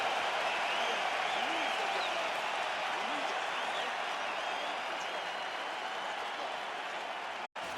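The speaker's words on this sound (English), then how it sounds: "So the crowd voicing its appreciation after that round" A UFC arena crowd applauds and cheers after a round, a dense, steady wash of clapping and voices from a large audience that holds for about eight seconds.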